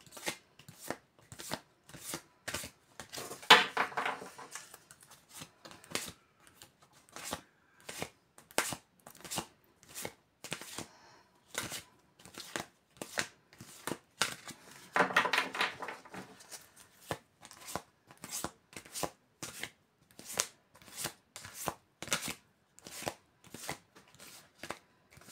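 Tarot cards are shuffled by hand, giving a long series of rapid, crisp riffling slaps and flicks repeated steadily, with a couple of denser bursts, close and alone.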